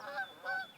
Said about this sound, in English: those are nice Canada geese going by. Nice honking.